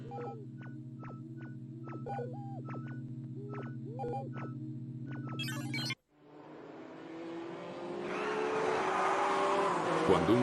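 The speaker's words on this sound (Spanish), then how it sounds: "Cuando un coche sufre un aparatoso accidente," Car tires squeal and skid in a rhythmic, pulsing pattern for several seconds, then a sudden crash breaks off into a rising burst of broad noise and scraping debris, loud and close.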